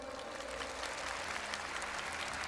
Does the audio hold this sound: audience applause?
yes